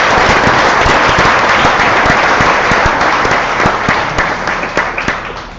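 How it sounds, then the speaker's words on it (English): Large audience applauding at a school exhibition evening, a dense, loud wash of many hands clapping that holds steady throughout and thins slightly toward the end. "So how about another big round of applause for them?"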